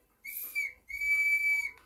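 A carved elder wood whistle blown in two bursts, the first short and broken, the second a long steady high tone, loud and close with only faint background noise.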